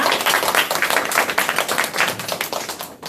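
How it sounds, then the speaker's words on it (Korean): Audience applause for a lecturer after a skincare product talk, loud close clapping from many hands in a steady rapid rhythm, thinning slightly at the end. "강의를 해주신 이경희 강사님께 다시 한번 큰 박수 부탁드립니다."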